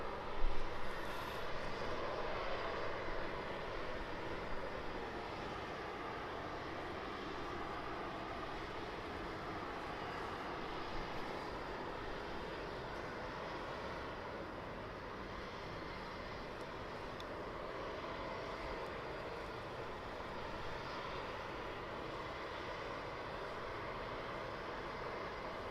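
A fixed-wing airliner descends on approach to Birmingham Airport, its engine noise a broad steady roar that holds evenly throughout at moderate distance, with no voices.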